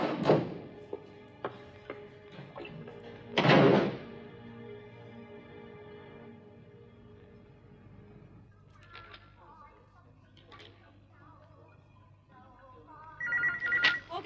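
A telephone rings twice in a home at night, with bright bursts of bell-like ringing near the start and a handset noise, followed by quiet room sounds and voices.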